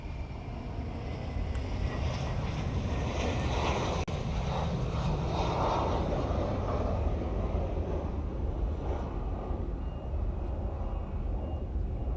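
Large aircraft arriving at Honolulu airport, a steady deep engine roar sustained throughout, moderately distant and unbroken by voices.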